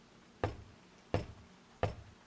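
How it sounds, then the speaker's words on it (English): Three loud, evenly spaced knocks strike a wooden door late at night, each a sharp close thud with a short decay, separated by silence. "It was so loud I thought the door might cave in. 3 knocks."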